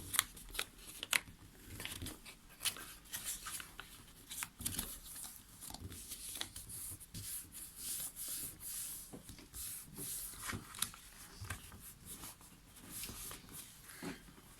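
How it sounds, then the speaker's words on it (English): Pages of a book are folded repeatedly into the spine for a book sculpture, a quiet run of crisp paper creases, rustles and soft snaps in an irregular rhythm, close up, with no talk. "there's one fold, and then second fold again into the spine."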